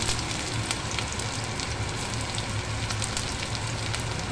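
Chopped onion frying in mustard oil in a kadai, giving a steady, dense sizzle and crackle that stays loud and even throughout with no voices.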